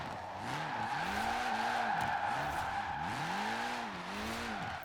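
A Ford Puma in Forza Horizon 4 slides under the handbrake, its tires squealing in repeated rising and falling wails over a steady engine drone, loud and close.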